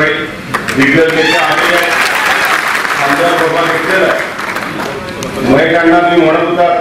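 One section of a crowd at a Shiv Sena gathering claps through the clip, the applause running under a loud speaker addressing the audience.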